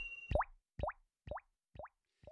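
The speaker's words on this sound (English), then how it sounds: "I recorded a drop sound, a droplet sound" A recorded water droplet effect repeating five times with a quarter-beat delay, each plop a sharp rising blip, fading in loudness with each echo, clean and isolated.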